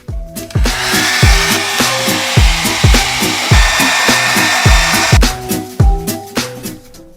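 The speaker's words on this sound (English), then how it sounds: "now I use a hairdryer to properly dry all the glue" A hair dryer drying glue on a linoleum block gives off a steady, loud blowing whoosh for about five seconds. It sits beneath rhythmic, plucked-sounding music and then cuts off.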